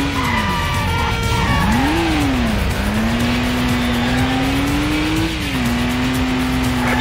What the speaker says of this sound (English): Handbrake turn.